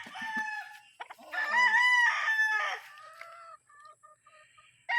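A Gilmore Green Legs gamefowl brood stag at a game farm gives one loud, close crow with a drawn-out middle, followed by a few short clucks and quieter calls as it trails off.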